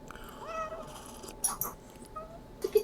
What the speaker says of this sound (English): Oh, another kitty.